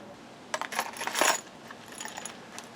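Loose metal bolts clink and rattle as they are shuffled around, a cluster of bright jangling clicks rising to a busier burst, then scattered lighter taps.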